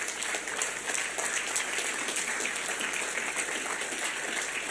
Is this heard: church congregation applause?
yes